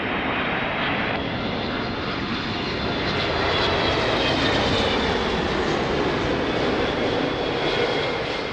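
A United Airlines Boeing 777 jet approaches runway 02 at Lisbon Airport, its engines producing a loud, steady roar that fills the whole stretch without break.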